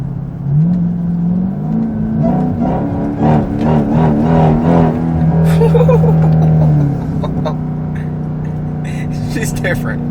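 A Dodge Durango Hellcat engine revs up under hard acceleration with a rising supercharger whine layered over the exhaust drone, loud and close, briefly easing off near the end.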